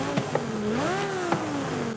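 Lamborghini Sesto Elemento Forza Edition with its original naturally aspirated 5.2-litre V10 revs in Forza Horizon 5, a loud, close, high-pitched screaming wail that climbs and falls once with gear-like blips, no talking.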